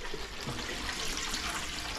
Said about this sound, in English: And we pour it in.